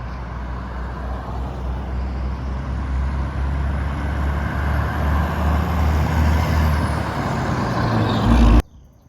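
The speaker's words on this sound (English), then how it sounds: "We just showed you the high traffic" Heavy road traffic with trucks rumbles past a housing development in the early morning, a loud, steady low roar of engines and tires that swells slightly before cutting off abruptly near the end.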